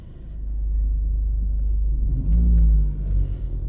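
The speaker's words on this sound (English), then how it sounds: "Give a little gas. Idles down real nice." A 2014 Ford Focus with a manual transmission hums at idle, then its engine revs up briefly in a louder surge and settles back down to a smooth idle, heard up close.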